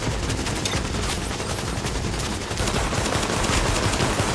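Sustained automatic gunfire from the video game The Division, a dense unbroken burst of rapid shots that stays loud and steady throughout with no voices over it.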